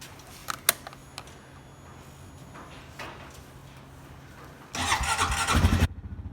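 A Honda Rancher 420 ATV engine cranks and starts on a cold morning, with a loud churning burst near the end that settles into a steady, rapid idle, close by.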